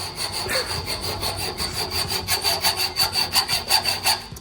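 A hacksaw works back and forth on a part of a C5 Corvette Z06, producing close, rhythmic rasping strokes that quicken and grow louder over a few seconds, with no voices.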